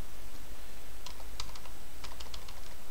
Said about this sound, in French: je suis obligé d'aller au clavier